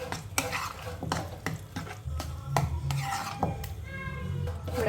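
A spoon stirs curd into raw banana pachadi in a pan, producing close scraping strokes with sharp clinks of metal against the vessel in an uneven rhythm.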